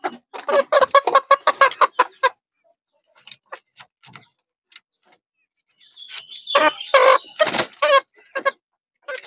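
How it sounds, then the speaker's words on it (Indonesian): Young Filipino chickens, three to seven months old, cluck and squawk in rapid bursts close by while feeding, with a quiet gap between two busy stretches. "Inilah kalau ayam-ayam saya seperti ini kalau makan."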